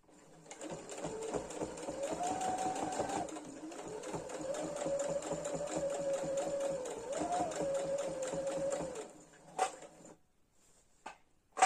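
A domestic sewing machine stitches fabric for a face-mask pouch, its rapid steady needle thump and motor whir running close for about nine seconds before stopping, followed by a couple of small clicks and handling sounds.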